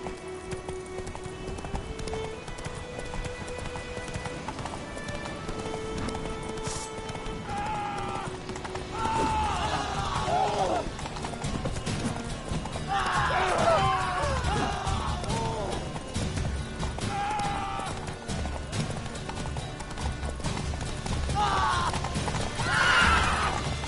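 A horse in The Witcher 3 gallops with steady clip-clop hoofbeats while neighing and whinnying breaks through at intervals, set against a game soundscape with a faint voice.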